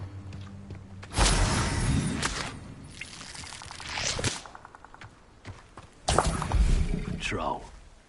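A troll in a Hogwarts wizarding video game gives a deep roar and heavy thuds in two loud bursts separated by quieter rumbling, with game sounds in between.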